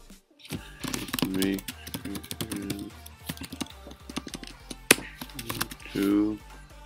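Quick bursts of typing on a computer keyboard while coding, keys clattering in uneven clusters close by, broken by brief pauses and one sharp louder tap.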